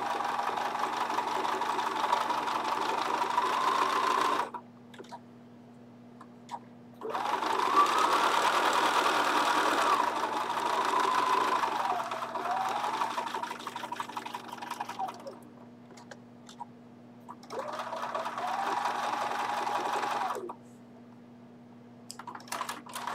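A Bernina sewing machine stitching in rapid, steady mechanical runs, stopping and restarting in three long bursts with short quiet gaps, near and loud over a constant low hum.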